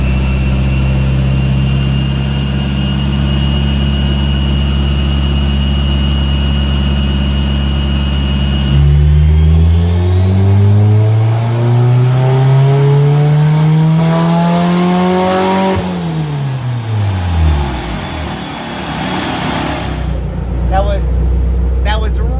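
Turbocharged B18C1 engine in a 1992 Honda Civic Si hatchback on a dyno: a loud steady idle drone gives way to a long rising full-throttle pull through VTEC, then the revs drop off sharply, with someone talking over it.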